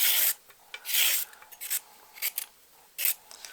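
Vegetables peeled for chips in a home kitchen, heard as short scraping, rasping strokes in an irregular rhythm, close and fairly quiet, with brief pauses between the passes.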